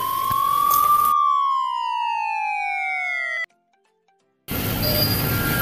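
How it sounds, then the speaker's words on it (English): Police motorcycle siren sounding loud and close, a steady tone that rises and then slowly falls in pitch, followed by a short silence and a burst of broad noise. "Police motorcycle."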